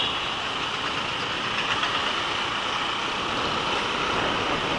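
Naked motorcycle engine running steadily, a continuous close mechanical drone with a slight rough pulse, holding level for several seconds without talk.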